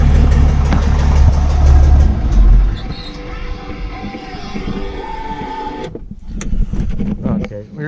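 An old tractor engine runs with a loud, low rumble in the first few seconds, then drops to a quieter idle with people talking over it.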